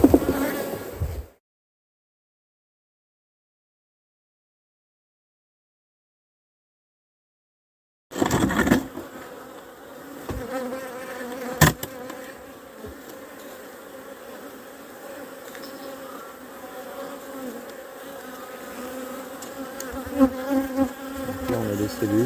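A steady swarm of honeybees buzzes close by around an open hive, dense and continuous, after a stretch of silence at the start.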